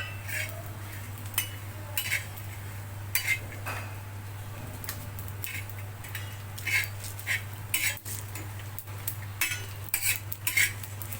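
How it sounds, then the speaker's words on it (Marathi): Spices roasting in a little oil are stirred around a pan with a spoon, giving soft scraping and occasional light clinks of metal over a steady low hum, with no talk. "आता मी याच्यामध्ये हे सगळे मसाले भाजून घेणार आहे"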